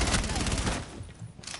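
Rapid automatic gunfire from a heavy-recoil weapon in the shooter game Rainbow Six Siege, a dense, loud burst that fills the whole moment and briefly thins near the end.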